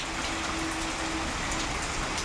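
Steady, heavy rain pouring down without pause, a dense hiss filling the whole stretch with no voices.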